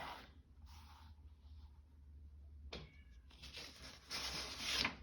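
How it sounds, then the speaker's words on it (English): A cat meows from a basement a few times, faint and somewhat distant, followed by a louder, drawn-out yowl near the end over a low background hum. "She's meowing from the basement."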